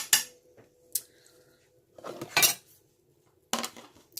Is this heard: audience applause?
no